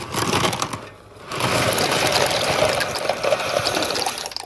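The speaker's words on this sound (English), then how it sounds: "I'm gonna go ahead and pour the pasta in." Dry pasta, the rest of a box, poured into a pot of water on a stove, giving a steady rushing, rattling pour that runs for several seconds after a brief pause, with no talking.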